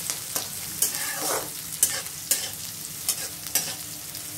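Green chili and onion sizzle in hot oil with cumin in a pan for cabbage and soya granule sabji, while a spatula scrapes and stirs in steady strokes roughly every half second.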